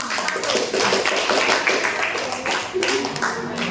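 A classroom breaks into clapping after a group presentation, dense and continuous for several seconds with a brief lull near the end, while voices talk underneath.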